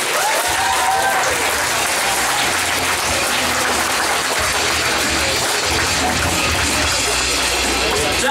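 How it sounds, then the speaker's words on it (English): Comedy club audience applauding after a stand-up set, a loud, continuous roar of many hands clapping close by, with a host's voice briefly heard over it. "Give another round of applause."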